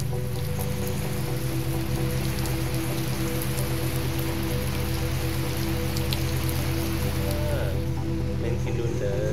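Heavy rain falls steadily on a rural garden house, a dense, unbroken hiss close by throughout, with faint voices under it.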